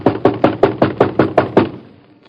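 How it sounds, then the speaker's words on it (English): Seven loud, evenly spaced knocks bang on a shop door at night, sharp and close, then fading into quiet. "Let's bang on the door."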